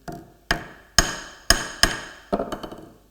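A hammer strikes a steel layout knife blade held in a vise in sharp, ringing blows, five evenly spaced hits followed by a quicker cluster of lighter taps.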